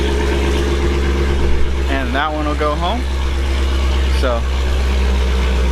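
A Dodge Hellcat fitted with go-fast parts idles with a continuous low engine drone, close and steady, while someone talks over it throughout.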